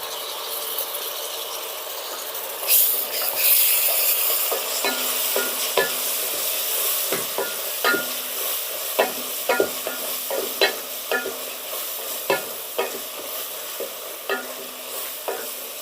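Ginger garlic paste fries in oil for chicken biryani, a soft sizzle under repeated scraping and clattering stirs of a spoon against the pan, the strokes coming in an uneven rhythm close by.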